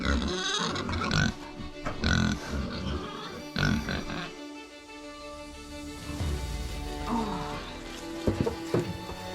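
Farm pigs grunt and snuffle repeatedly at close range over about nine seconds, irregular and overlapping, with some wet rustling in the pen and no talk.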